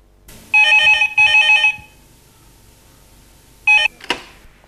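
A telephone rings in two loud electronic trill bursts, then falls quiet before a third short burst, followed by a brief clatter as the handset is picked up, with no speech.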